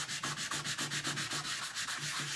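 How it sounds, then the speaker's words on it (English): Wood is sanded flat by hand with a sanding block, a close, steady rhythm of rough rubbing strokes, roughly five per second, with nothing else over it. "Let me just sand this down. And you make it nice and flat."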